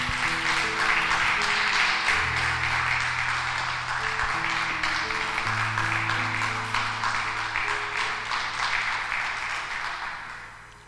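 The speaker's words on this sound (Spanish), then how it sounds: "Dale un aplauso al Señor." Church congregation clapping steadily throughout a worship service, a dense, sustained wash of applause over sustained organ or keyboard chords that fades slightly toward the end.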